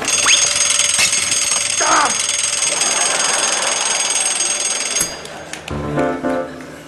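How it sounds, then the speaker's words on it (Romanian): An alarm clock ringing loudly indoors, a steady electronic tone that carries on for several seconds before it gives way to a few clattering knocks and shorter beeps. "De ce ai pus, mă, ceasul să sune la ora asta?"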